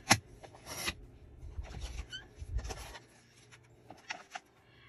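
Paper journaling cards being cut to 4 1/4 inches, giving a few short, dry slicing and rustling bursts with quiet handling noise between them.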